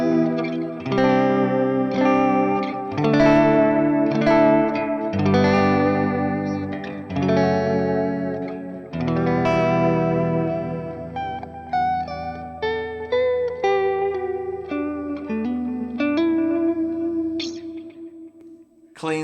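An electric guitar played through a Line 6 Helix on a Bogner amp model, with chorus and echo effects. Loud sustained chords and riffs ring out with short pauses, then thin into cleaner single notes near the end, played alone.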